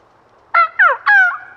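Wild turkey clucks and purrs imitated on a hand turkey call, three close, loud bursts of raspy calling separated by brief gaps against a quiet background.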